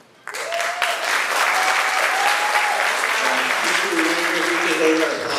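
Audience applause at an election forum fills the room, starting abruptly and holding steady, with a faint tonal voice or sound drifting over the dense clapping.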